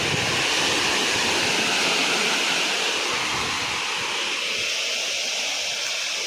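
A farm water pump's outflow rushes into a field, making a loud, continuous roaring wash of flowing water up close, steady and unbroken, with no talking.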